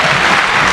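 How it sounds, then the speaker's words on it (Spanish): Audience applause for a conference speaker, an endocrinologist from a Mexican hospital, at a scientific meeting on metabolic syndrome; a brief, dense, steady wash of many hands clapping, loud and close throughout. "Un aplauso para él, por favor."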